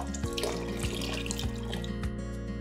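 Steady stream of water running into a cooking pot to soak red beans, continuous and close, with a few soft knocks and splashes.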